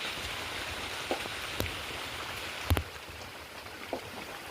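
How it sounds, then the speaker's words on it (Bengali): Soft, steady rain patters in a constant hiss, with a few louder drips landing nearby. "এই দেখো বৃষ্টি পড়ছে"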